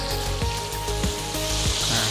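Meat for sukiyaki sizzles steadily in a hot pan as it is sautéed, with a dense crackling hiss and occasional soft stirring knocks. No one speaks.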